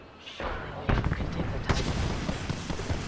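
Gunfire behind the player in the Apex Legends video game, a dense rattle of shots and booming impacts in a noisy mix with a voice talking over it.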